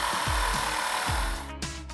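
A power tool cutting a kerf into wood, a steady high whine with rhythmic pulses of the blade biting the workpiece, close and loud, trailing off at the end.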